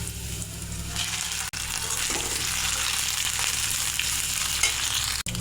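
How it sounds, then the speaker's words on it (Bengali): Fish roe sizzling in a pan with half-fried chopped onion, green chillies, cumin and dried red chillies; a steady, loud frying hiss runs throughout with brief stirring scrapes and no talk. "এবার মাছের ডিম দিয়ে দেব।"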